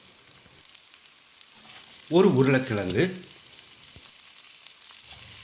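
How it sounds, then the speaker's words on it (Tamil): Chopped vegetables for a Hyderabadi veg biryani, including carrot, beans and cauliflower, sizzling in a hot pan, a faint steady frying hiss beneath a voice speaking briefly in Tamil nearby. "1 நிமிஷம் இது எல்லாத்தையும் ஃப்ரை பண்ணிக்கலாம்"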